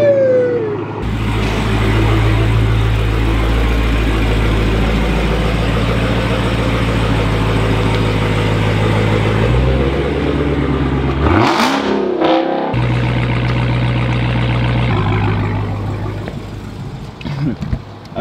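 A Dodge Hellcat engine rumbles loudly and steadily throughout, with a brief throttle blip midway before the deep idle drone returns.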